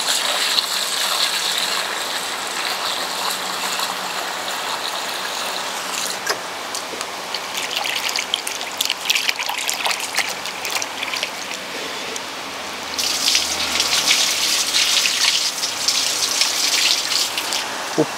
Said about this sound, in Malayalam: അപ്പോൾ നമുക്ക് മീൻ നല്ലോണം കഴുകി വൃത്തിയാക്കി എടുക്കാം.